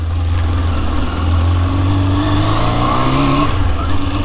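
A Yamaha Zeal 250, a 250cc four-cylinder motorcycle, pulls away onto a road in a housing estate. The engine revs up and shifts, and its pitch climbs and dips, loud and continuous from close range, with no speech.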